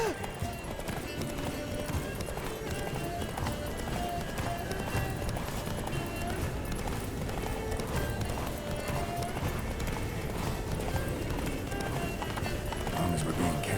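Roach, Geralt's horse in The Witcher 3 game, galloping with continuous rapid clip-clop hoofbeats, steady and close, while voices talk over the running throughout.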